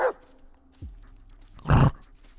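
Dog barking in the Blair Witch video game, a few short separate yelps and one louder gruff bark near the end, with quiet gaps between them.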